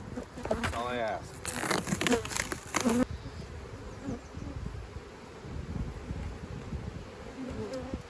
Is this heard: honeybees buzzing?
yes